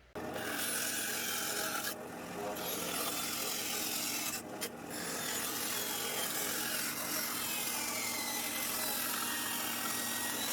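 A power tool drills and grinds into a Kydex holster blank for a Glock 30S fitted with a Nightstick 550XL light, a loud continuous rasping whine with two brief pauses, up close and alone.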